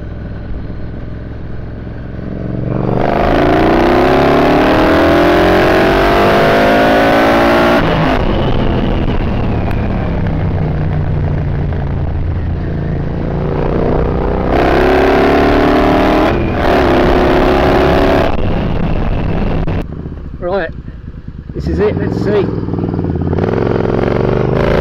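A boosted Triumph Bobber motorcycle pulls hard in second gear, its loud engine climbing in pitch through long revving runs, easing between pulls and fading to quieter rumbling and clatter near the end.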